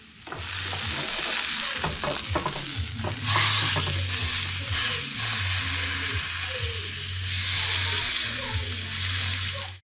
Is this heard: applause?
no